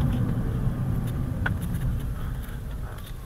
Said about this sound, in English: And the downshifts are so quick.